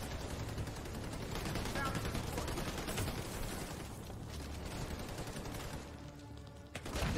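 Dense gunfire from The Division 2 shooter game, sustained bursts and shots layered continuously throughout with a busy mix of effects, briefly easing near the end before a sharp burst.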